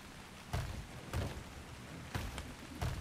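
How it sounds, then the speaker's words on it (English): Rain falls in the video game ARK: Scorched Earth as a steady hiss, broken by four low, booming thumps spaced unevenly through the stretch, with no voices. "It is still raining outside."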